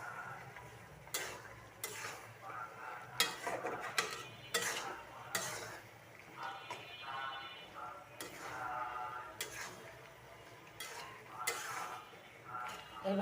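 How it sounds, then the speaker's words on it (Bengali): Olive pickle being stirred in a pan, a utensil scraping and clinking against the metal in irregular strokes, with a light sizzle underneath throughout. "এইভাবে একটু নাড়াচাড়া করবেন।"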